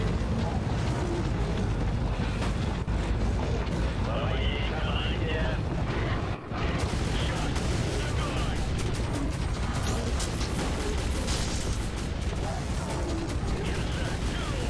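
Battle gunfire in the first-person shooter Metro 2033, heard at the finale on hardcore difficulty: a dense, steady roar of shots and crashing noise runs almost unbroken throughout, with one brief dip midway.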